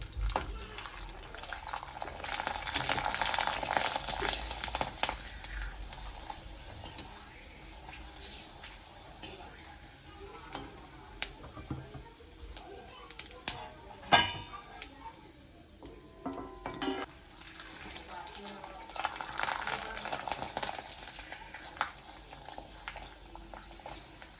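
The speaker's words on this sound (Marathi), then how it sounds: "शाबूची तांदळाची पापडी तळून दाखवते मी" Sago and rice papad fry in hot oil, bubbling and sizzling in bursts that swell and fade, with faint clinks of stirring and handling nearby.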